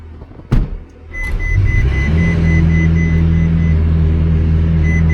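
Ferrari 360 with an IP exhaust, salvaged from a flood, cranks and fires into a steady, deep idle after a brief starter burst, near and loud with a faint whine above the drone.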